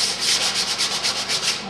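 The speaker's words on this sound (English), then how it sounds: "Slightly sanding everything." Steady back-and-forth sanding strokes on wooden doors, a rhythmic scratchy rasp repeating about every fifth of a second, close and clear with no talking.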